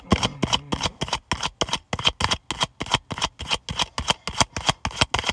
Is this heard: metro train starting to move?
no